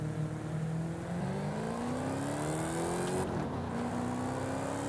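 A Dodge Challenger Hellcat Redeye in Forza Horizon 5 cruises with a smooth, rising engine drone, its pitch climbing steadily through a gear before a brief shift dip, then continuing upward, close and loud.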